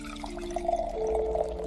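Water poured into wine to dilute it, a steady liquid stream with a rising gurgling fill tone, close and fairly quiet, heard on its own.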